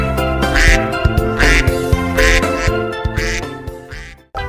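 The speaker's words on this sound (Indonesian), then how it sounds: "Wow, ternyata ada bebek, teman-teman." Cartoonish duck quacks repeat in a quick, uneven rhythm over a busy children's song about a colorful dump truck, loud and close, cutting off abruptly near the end.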